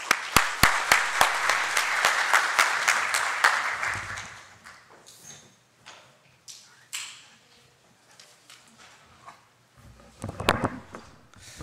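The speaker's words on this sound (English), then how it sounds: "Please give them a round of applause" A conference audience bursts into applause, loud dense clapping for about four seconds that then fades into scattered claps, shuffling and room noise, with a brief louder clatter near the end.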